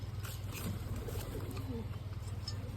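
Soft cooing from a pair of American pigeons at feeding time, low murmuring calls repeating under a steady background hum, close by and fairly quiet.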